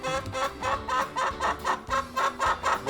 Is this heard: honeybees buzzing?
no